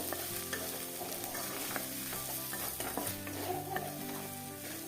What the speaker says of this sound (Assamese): মই ধুনীয়াকৈ লৰাই দিছোঁ।